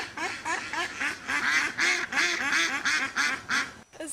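A mother duck and her ducklings are heard as a steady run of nasal quacks, close and fairly clear, repeating about twice a second before a short pause.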